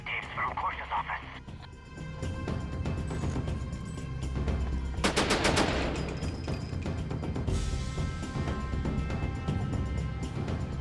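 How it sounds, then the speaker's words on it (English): Gunfire and crashing action in the video game Syphon Filter: The Omega Strain, a dense, loud barrage of shots and impacts layered with game music and voices. "Why are you shooting at me?"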